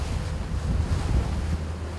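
Rough sea waves around a coast guard patrol boat off Pohang, a loud, steady wash of water with low rumble and buffeting wind noise, no voices.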